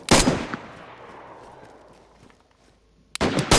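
Two loud sniper-style gunshots in a shooter game around a brick factory and sniper tower, the first with a long echoing decay fading over several seconds, the second a sharp close crack at the end.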